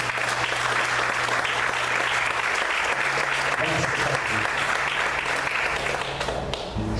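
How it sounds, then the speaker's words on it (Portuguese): A church congregation claps steadily and loudly at a Sunday morning service, dense applause sustained throughout with faint low voices or music humming beneath. "Vamos aplaudir o Senhor com alegria."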